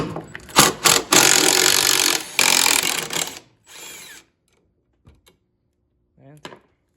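A power tool unscrews the top mount bolts of a car strut on a lowered Malibu MAXX being fitted with SAAB coilovers, giving a few loud close bursts of whirring, then quiet with small clicks.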